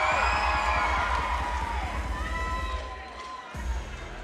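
A crowd cheers and shouts at a Battle Zone Championships fighting event in Atlanta, loud continuous roar with whoops and voices over a steady rhythmic thumping, easing slightly toward the end.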